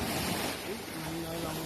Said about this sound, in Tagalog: Lakas na alon dito.